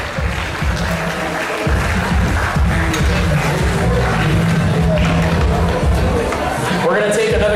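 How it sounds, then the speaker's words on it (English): An audience at an FTC robotics regional qualifier applauds and cheers for a finalist alliance, a sustained crowd clapping swell mixed with chatter and a voice over the room. "give a big round of applause to Alliance number 4"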